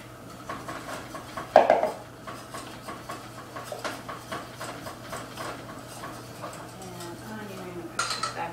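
Cake batter with eggs is mixed by hand in a bowl for a passion cake, giving a continuous run of rhythmic, close utensil clinks and scrapes, with one louder knock near the start and occasional voices underneath.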